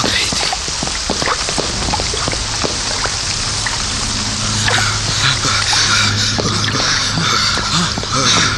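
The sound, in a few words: heavy rain sound effect in a radio play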